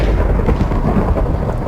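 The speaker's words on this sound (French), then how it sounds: "Lui fait juste spawn un éclair." A loud, continuous rumbling roar of thunder from a lightning strike spawned in a Minecraft mod, a dense low crackling rumble filling the whole moment with no speech.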